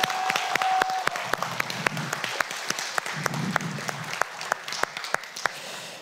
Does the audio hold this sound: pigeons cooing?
no